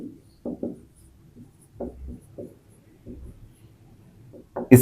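Pen strokes scratch across paper while a maths problem is worked out by hand, coming in short irregular bursts with pauses, close and fairly quiet, with no voices.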